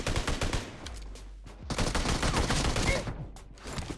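Shotgun blasts in an online shooter game, with several sharp gunfire bursts cutting in over a busy, noisy game mix, quite close and loud, with scattered talking among players.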